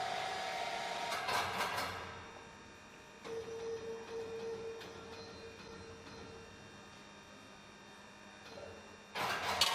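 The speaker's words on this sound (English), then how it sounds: "Start the machine and begin rolling the plate into a cone shape." A 4-roll plate bending machine hums steadily as it rolls a steel plate into a cone. The drone is faint and continuous, with louder clanking bursts near the start and end.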